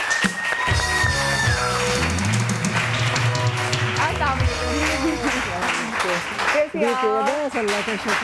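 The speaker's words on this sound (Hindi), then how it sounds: "जोरदार तालियों में हम वेलकम करेंगे जहारा हाई को" A studio audience at a Pakistani morning TV show applauds loudly and steadily to welcome a guest, over music.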